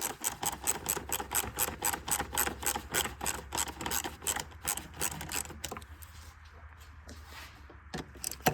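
Someone loosens a hose clamp on the throttle body of a 1999–2006 Chevy Silverado 1500, giving a close run of quick, even ratcheting clicks for several seconds before it tapers into a quiet pause and a last click or two.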